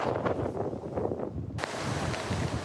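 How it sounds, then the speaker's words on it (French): Storm Goretti wind blows at 130 km/h along the French coast, a loud roaring rush buffeting the microphone that turns to a harsher broadband blast partway through, with no voices. "Ici, le vent souffle à 130 km/h ce matin."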